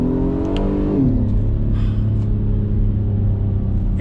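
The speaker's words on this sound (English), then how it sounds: "This engine is addicting to listen to." A 2022 Acura MDX engine revs up close by, rising sharply in pitch and then settling into a steady, deep, loud rumble as the SUV accelerates, with no talk.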